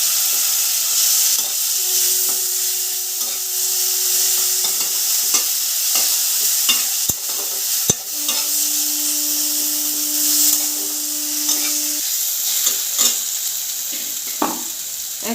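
Ginger garlic spice paste with a splash of water is stir-fried in a pan for a fish curry. A loud, continuous sizzle carries repeated scraping strokes of the spatula, with a faint steady hum underneath.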